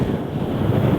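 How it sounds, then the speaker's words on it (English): Strong, steady wind gusting across a mountainside during a scramble, buffeting the microphone with a constant low roar and no other sounds. "As you may be able to tell, it's pretty windy up here."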